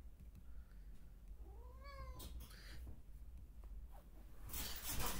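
A cat meows several times indoors, with rising and falling calls followed by a short caterwaul-like cry, fairly near over a quiet room hum and no talking.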